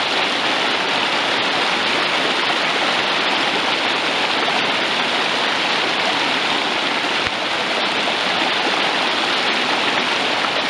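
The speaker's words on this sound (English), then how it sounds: "This is a tributary to the Ravens Fork." A mountain stream feeding the Ravens Fork near Cherokee rushes steadily, a dense, even wash of flowing water close by with no pauses and no voices.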